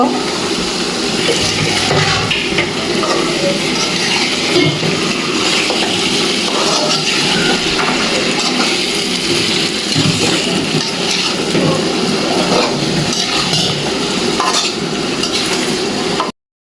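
Pieces of ash gourd and potato sauté in a hot pan, producing a steady, loud, dense sizzle that runs unbroken with faint stirring beneath it.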